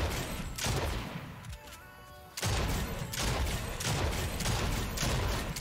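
Rapid bursts of gunfire in the video game Fortnite, loud and dense, dropping away for a moment before resuming in continuous fast volleys.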